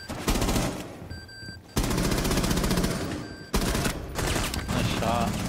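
Rapid automatic gunfire in Rainbow Six Siege played on console, loud dense bursts broken by brief pauses, close and continuous across the stretch.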